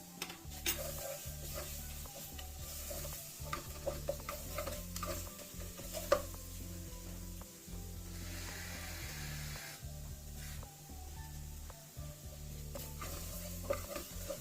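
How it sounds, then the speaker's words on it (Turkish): Half a spoon each of tomato paste and pepper paste roasts in a pan for vermicelli soup, a soft continuous sizzle under repeated scraping stirs with light ticking clinks, fairly quiet and close. "yarım yemek kaşığı domates salçası, yarım yemek kaşığı biber salçası koyup salçanın kavrulmasını da sağlayacağım"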